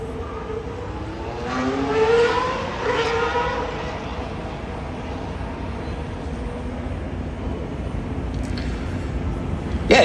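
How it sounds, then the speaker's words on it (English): A Formula One car's engine during Las Vegas Grand Prix practice, its pitch climbing in rising sweeps as the wheels spin on low-grip tyres, heard at a distance under trackside ambience. "You can hear the note of the engine going up as he spins it up."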